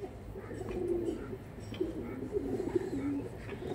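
Kaldama-breed pigeons coo softly in low, rolling phrases, close by and steady over a faint background hum.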